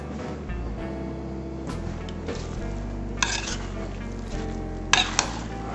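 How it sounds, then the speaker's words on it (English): A spoon stirs fruit salad and mayonnaise in a bowl, giving wet squelching and scraping with occasional clinks against the bowl, close and fairly loud, with no talking. "Mix it all together."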